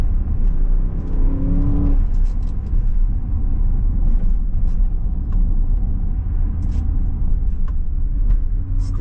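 The twin-turbo V8 of a Bentley Batur Mulliner coachbuilt supercar climbs through a brief rising rev, then settles into a steady, deep driving rumble heard from inside the car.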